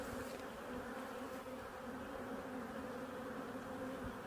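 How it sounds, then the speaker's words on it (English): Honeybees buzz in a dense, continuous drone at an open hive during an inspection, the swarm humming close and steady without speech. "Don't worry about the bees, they'll get out of your way."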